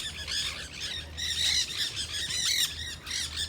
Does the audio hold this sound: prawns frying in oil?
no